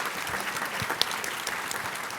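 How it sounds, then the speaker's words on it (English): A conference audience applauding a panel at a government digital services event, a steady wash of many hands clapping at moderate distance, holding evenly throughout. "Please join me in giving a warm round of applause to Travis, Betsy, Greg, and Christina."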